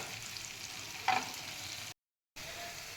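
Onions with ginger and garlic powder sizzle steadily in a pan over a high flame, a continuous hiss with one brief louder stir near the start and a short silent gap.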